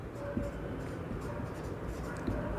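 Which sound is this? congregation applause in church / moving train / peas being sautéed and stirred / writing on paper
writing on paper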